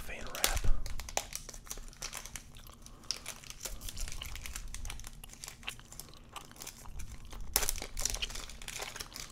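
Cellophane wrap on an old football card pack crinkling, close and crackly in irregular bursts, with soft whispering and mouth sounds mixed in.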